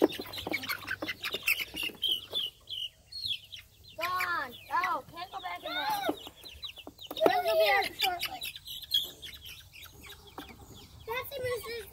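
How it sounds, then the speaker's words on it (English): Chickens cluck and squawk in a coop, close and intermittent with varied calls, while a person talks quietly at times in between. "Look at this chicken."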